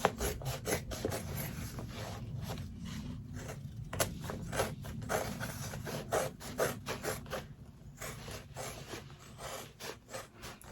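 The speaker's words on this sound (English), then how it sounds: "I turn it, and I just cut all this excess off" Scissors snip through excess fabric around the stitching of an in-the-hoop zipper bag, a rapid run of close, crisp cuts with soft rustling of the cloth between them.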